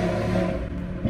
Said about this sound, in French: 5 cylindres, c'est un moteur que j'adore par sa sonorité qui est unique